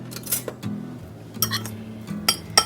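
A fork clinks and scrapes against a dish while working a breadcrumb mixture for a keto tuna casserole, making bursts of close metallic taps and scratches with short gaps between them.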